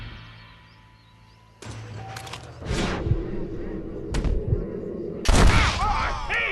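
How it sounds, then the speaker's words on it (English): Several sharp gunshots crack out in a Red Dead Redemption western shootout, coming in separate bursts with echoing tails over a low ambient rumble, and voices are briefly heard among the shots. "Marvelous shot, dear boy"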